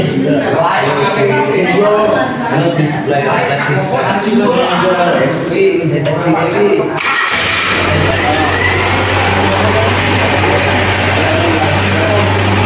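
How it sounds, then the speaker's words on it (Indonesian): A car engine starts partway through, then settles into a steady low idle while an air-conditioning system is being refilled with freon; someone talks over the first half before the engine turns over. "Lalu pengisian freon sambil mesin menyala."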